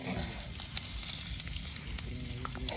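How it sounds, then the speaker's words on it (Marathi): Chicken pieces frying on a tandoor at an outdoor night campsite, giving a steady close sizzle and crackle with a few sharp pops, no talking. "लाव मस्त फ्राय कर."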